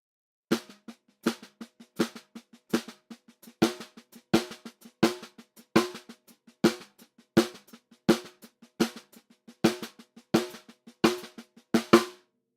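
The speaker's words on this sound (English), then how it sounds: "We're going to start off on the snare. We're just going to play 16th notes and move the accent" Snare drum playing steady sixteenth notes, with a louder accented stroke shifting position through each group; crisp, close and unaccompanied.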